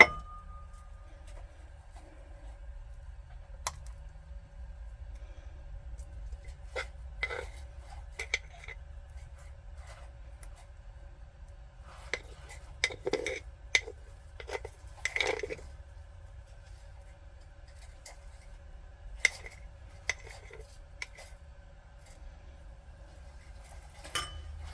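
Bowl and metal utensils clinking and clattering in a kitchen while a sourdough starter is fed, with scattered light taps and a short cluster of clinks in the middle over a quiet hum.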